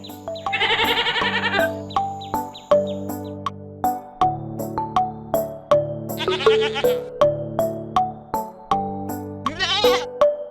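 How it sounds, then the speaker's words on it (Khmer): Goats bleating on a farm, loud and close, in several short bursts across the clip over a steady backdrop of rhythmic plucked music. "និងពពែ"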